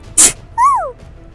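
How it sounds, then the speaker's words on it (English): A person sneezes once, a short loud burst close to the microphone, followed by a brief rising-and-falling vocal noise. "And I'm about to sneeze."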